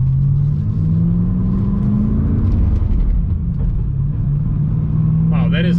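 A Roush Stage 3 Mustang, Blackjack Edition, rumbles at a steady low idle close by with a slight rise in pitch partway through, while someone talks over the engine.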